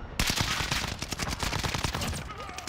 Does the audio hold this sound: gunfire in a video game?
yes